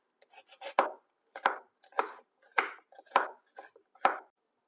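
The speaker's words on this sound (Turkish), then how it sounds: "Bir adet soğanımızı da yemeklik olarak doğruyoruz." A knife chopping an onion on a cutting board in a home kitchen, in quick bursts of several close, crisp cuts separated by short pauses.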